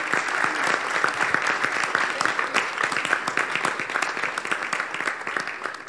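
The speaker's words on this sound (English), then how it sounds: "give a big clap for the MCs" An audience at an SEC capital market event in Takoradi applauds the MCs, a steady wash of many hands clapping at moderate loudness throughout.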